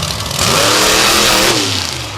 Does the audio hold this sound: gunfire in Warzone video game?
no